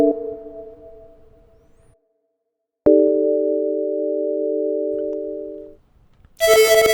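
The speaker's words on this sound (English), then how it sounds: "Here the breather is used to play short chords with multiple notes at once." The Breather VST synthesizer plays short chords of several notes at once, steady tonal sustained chords separated by pauses, one struck with a sharp attack, ending in a brighter, buzzier chord, with no talk.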